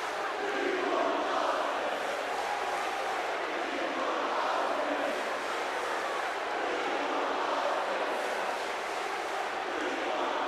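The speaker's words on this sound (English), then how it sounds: "The crowd shouting they want Austin" Video-game wrestling arena crowd in WWE 2K14 roaring and chanting for Austin, a dense, steady wall of massed voices holding at the same loud level throughout with no single voice standing out.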